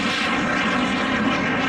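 An aerobatic propeller airplane performing at the Hammond Northshore Regional Air Show, its engine drone loud, steady and close throughout with no talk.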